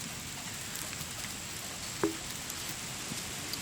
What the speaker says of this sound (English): But it is raining, so I'm gonna run in here.